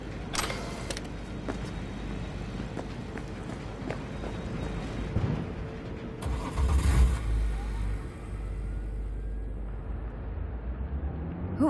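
A car in Cyberpunk 2077 starts up and drives off, its engine a steady close drone that swells louder in the middle before settling, with a faint jingle near the start.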